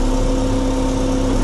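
A JCB backhoe loader's engine runs steadily at low revs while the machine creeps slowly forward in a line of loaders at a celebration event, a continuous loud drone with a steady hum and no talk.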